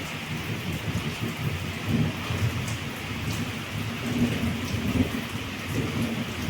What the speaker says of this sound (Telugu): వర్షం